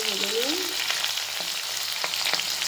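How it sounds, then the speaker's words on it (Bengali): Half-boiled potatoes frying in hot oil until browned, a steady close sizzle throughout with a few soft scrapes of stirring and no talk. "এগুলো একটু লাল লাল করে নিই, অর্ধেক সেদ্ধ করে রেখেছি, লাল লাল করে ভেজে নিই।"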